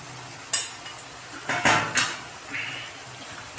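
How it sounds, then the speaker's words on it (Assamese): A metal lid clanks onto a cooking pot of taro and broiler chicken curry, a sharp clink followed by a couple of rattling knocks and a soft settling scrape, close and fairly quiet. "এতিয়া মই ঢাকন মাৰি দিছোঁ"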